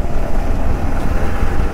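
A Bajaj Avenger 220 cruiser motorcycle on the road, with a steady low engine drone mixed with heavy wind rush over the microphone, loud and continuous, with no talking.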